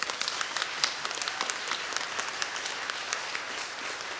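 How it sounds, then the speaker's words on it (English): An audience at a youth musical applauds a young pianist, a steady crackling patter of many hands clapping together, sustained and fairly close throughout. "Let's give him a round of applause"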